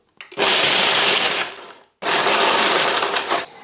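Food processor on its chop setting cutting bread into breadcrumbs, two loud, dense whirring bursts of roughly a second and a half each with a short gap between them, the blade rattling through the pieces.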